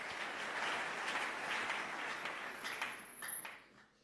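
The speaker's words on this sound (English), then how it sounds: "And then clap for Jesus." A church congregation applauds in a fairly faint, diffuse patter of clapping that swells briefly and then fades away, with a thin high ringing tone near the end.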